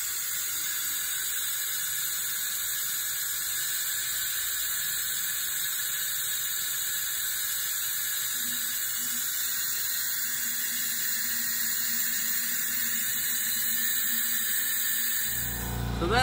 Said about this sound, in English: So we're going to suck the fluid out.